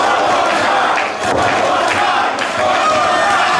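Wrestling arena crowd at a Ring of Honor match between El Generico and Bryan Danielson, chanting and cheering loudly and continuously, a dense roar that swells in waves with no clear talk over it.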